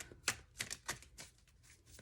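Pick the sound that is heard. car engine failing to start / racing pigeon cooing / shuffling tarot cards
shuffling tarot cards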